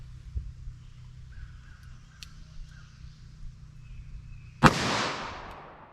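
A single loud, sharp .44 Magnum gunshot firing a 225 grain Barnes VOR-TX load cracks out close by after several seconds of quiet, its report ringing and fading over the final second. No one speaks.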